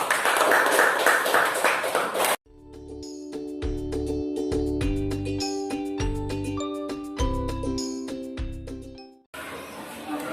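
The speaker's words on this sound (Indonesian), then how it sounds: "Anak-anak, kita berikan tepuk tangan untuk kelompok 1 yang mewakili" Schoolchildren in a classroom clap for a group of classmates in a loud, dense burst that cuts off abruptly. A tinkling chime melody plays next, then the clapping returns at the end.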